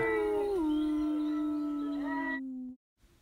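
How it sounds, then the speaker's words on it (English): A single long wolf howl, used as a sound effect in a children's read-aloud story, rising briefly then holding a steady tone before fading out. "It howled at Theodore."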